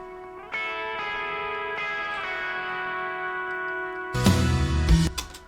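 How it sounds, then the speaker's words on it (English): A lone electric guitar rings out sustained notes drenched in reverb and echo, the tail swelling, then a burst of noisy strums near the end. "really heavy on the reverb just to make it sound big"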